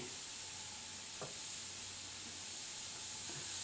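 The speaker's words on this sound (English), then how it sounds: "we're going to give that a little spray" Faint, steady hiss of an airbrush spraying paint on a hummingbird artwork, continuous and soft throughout with no talking.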